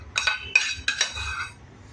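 Spoon scraping and clinking against a bowl while mashed potatoes are mixed with sautéed masala, three or four quick close stirring scrapes over about a second and a half.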